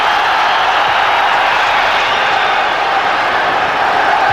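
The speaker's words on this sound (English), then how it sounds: "Listen to the crowd now. The crowd are loving this now." A large football crowd roaring during Manchester United v Juventus in the 1996-97 Champions League group stage, a steady loud stadium wash of cheering and noise without distinct breaks.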